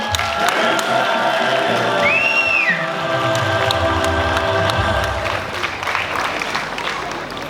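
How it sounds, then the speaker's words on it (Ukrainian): Audience applauding and cheering at an award ceremony of the Kryshtalevi Hrona festival, with steady clapping and crowd noise filling the hall for several seconds, faint voices mixed in. "ви можете привітати оплесками"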